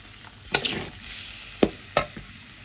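Fried rice with onion and soy sauce is stir-fried in a pan under a soft sizzle. A few sharp scraping and clanking strikes of a utensil cut through, close by, with no talk.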